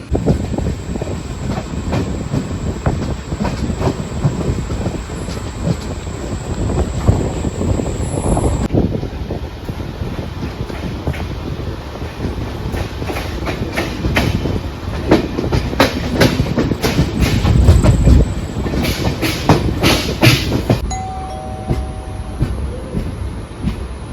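A Panvel-Chiplun Diwali special MEMU train rolls along with steady clickety-clack and broad rumble, wind buffeting the microphone throughout, a brief tone sounding near the end.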